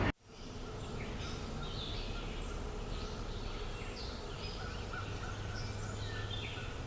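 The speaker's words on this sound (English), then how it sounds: "looks like we have some wild turkeys" Wild turkeys gobbling in short bursts, moderately distant, over a steady outdoor background hum; several calls overlap across the scene.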